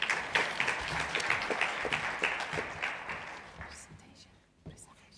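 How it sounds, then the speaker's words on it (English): An audience at a foundation conference session claps to welcome a speaker to the stage, steady clapping that gradually thins and fades, with murmuring voices underneath. "please give a round of applause to Dr. Vera de Kalver, representing NAST."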